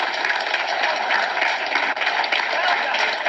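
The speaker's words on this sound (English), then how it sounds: "How about one more round of applause for the leader of the opposition, the Conservative Party leader." An audience applauds Conservative Party leader and opposition leader Pierre Poilievre with steady, dense, loud clapping that holds unbroken for the whole stretch.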